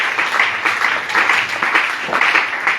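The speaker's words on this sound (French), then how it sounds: "Si tu me comprends, acclame plus fort pour la gloire du Seigneur Jésus-Christ." Church congregation applauding and cheering during a sermon on baptism, a dense, steady burst of many hands clapping with raised voices, loud and close, sustained throughout without pause.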